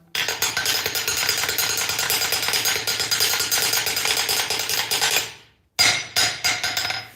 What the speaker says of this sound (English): we will rattle the anvil when we come to a halt